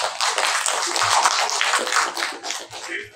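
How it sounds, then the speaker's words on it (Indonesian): Applause from an audience at a school dissemination session in Indonesia, a dense, steady patter of many hands clapping close by for about three seconds, easing slightly toward the end. "Tepuk tangan dulu untuk Ibu Nuraini."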